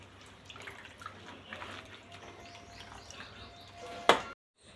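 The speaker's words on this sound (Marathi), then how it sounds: "व्यवस्थित अशी स्वच्छ पाण्यात धुवून घेऊया" Hadga flowers are rinsed in clean water, with soft splashing and dripping at low volume, then one sharp splash before sudden silence.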